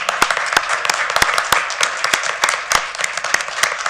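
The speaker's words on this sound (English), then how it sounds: "So if everybody would stand and all join me in a round of applause" A standing audience at a board meeting applauds, giving dense, continuous clapping with sharp individual claps standing out, steady and fairly close throughout.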